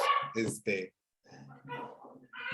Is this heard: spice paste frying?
no